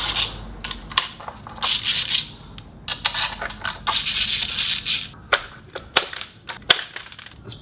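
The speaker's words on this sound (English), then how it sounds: "first thing I'm gonna do, of course, is take out the spark plug cover" A car's plastic spark plug cover is pulled off by hand in a close, quiet setting. Crunchy scraping, rattling and sharp plastic clicks come in irregular bursts, some louder snaps standing out near the end.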